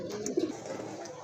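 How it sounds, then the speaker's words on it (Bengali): A large male pigeon, a seven-eyed breed offered at a bird sale, gives a short soft coo close by against a light background murmur. "সাত চোখের বিগ সাইজের নর কবুতর"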